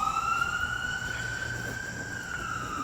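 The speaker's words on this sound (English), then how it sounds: "You get the sirens, even in the park." A wailing emergency siren sweeps up and down steadily, loud and continuous over a low background rumble of distant traffic, heard in Central Park, New York.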